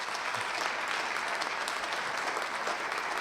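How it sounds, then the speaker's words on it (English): Audience applause at a community center open house, dense, even clapping filling the room from start to finish with no talk over it. "we want to give them applause for being here and being a part of this day"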